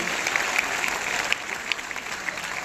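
An audience claps loudly and continuously at a motivational gathering, a dense burst of applause from a crowd that lasts a few seconds.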